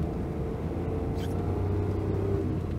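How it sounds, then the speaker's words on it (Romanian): A three-cylinder Daewoo Tico car engine runs steadily with a low, even rumble throughout, close and continuous, no talking. "Sunetul acesta de motor în 3 cilindri."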